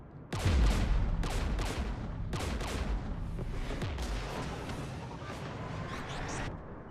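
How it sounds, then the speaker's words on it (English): Mass Effect 3 combat with Geth forces near a jamming tower and anti-aircraft guns: dense bursts of gunfire and heavy booms repeat in overlapping volleys, loud and continuous with sharp onsets. "We're taking fire."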